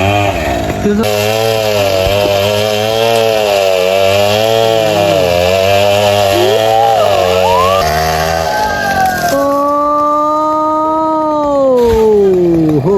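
A chainsaw engine roars continuously and loudly, pitch shifting as it works through a coconut tree trunk, then revving higher near the end.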